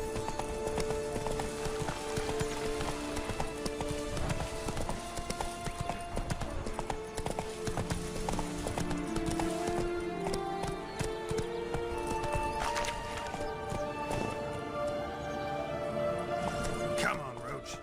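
Geralt's horse Roach gallops in The Witcher 3, a fast continuous clip-clop of hooves over accompanying music, with a brief whinny and game voices mixed in.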